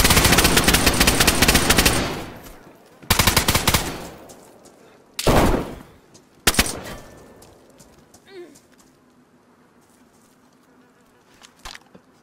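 Automatic gunfire in the survival video game DayZ, with several loud rapid bursts of shots early on, then a few fainter isolated shots trailing off against a quiet background.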